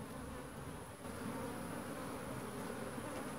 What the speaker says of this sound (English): Bees are getting a little excited.